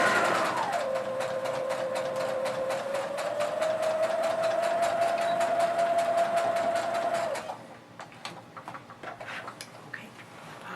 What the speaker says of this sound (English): I'm going to sew it on just like we did the other one here at the bottom.